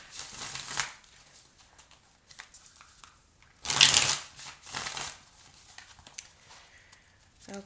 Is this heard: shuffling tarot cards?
yes